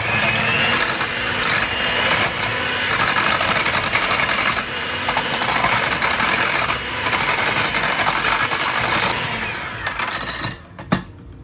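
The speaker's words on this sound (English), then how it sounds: "I have my hand mixer here, and we're just going to go ahead and get our wet ingredients all mixed together." An electric hand mixer whirs continuously at close range, beating wet cake ingredients for a white wine cake in a bowl with a dense, steady motor buzz that cuts off near the end, followed by a single clink.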